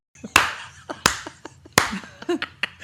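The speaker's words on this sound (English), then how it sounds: "She just does the clap for me" Three sharp hand claps spaced under a second apart, crisp and close, with softer tapping and handling noises scattered between them.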